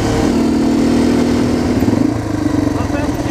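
A Yamaha TTR230 trail bike engine drones steadily while riding over smooth desert ground at an OHV area, loud and close, with a slight pulsing change in pitch partway through.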